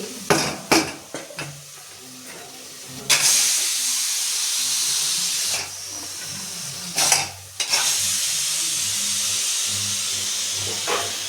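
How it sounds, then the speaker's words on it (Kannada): A long, loud hissing burst of steam like a pressure cooker whistle, preceded by a few clanks, then a second sustained hiss after a brief pause. "cooker whistle"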